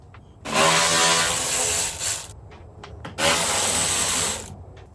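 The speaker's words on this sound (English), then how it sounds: "Now I'm going to be using my Milwaukee impact wrench, socket wrench thing here, and a T30 star bit." A Milwaukee impact wrench with a T30 star bit backs out bolts on a Jeep in two loud, close, buzzing bursts of about two seconds each, with a short pause between them.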